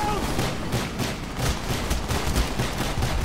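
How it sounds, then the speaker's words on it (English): Rapid bursts of automatic gunfire in the Call of Duty Black Ops campaign, repeated sharp shots with booming low thuds, moderately loud and continuous, with faint in-game voices underneath. "Gunfire ruptured the canister!"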